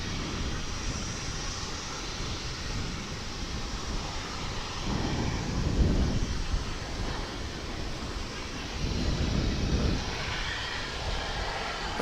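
A Boeing 747 Queen takes off for Louisville at Dallas/Fort Worth International Airport, a steady broad jet roar heard from a distance with wind, swelling in two louder surges partway through.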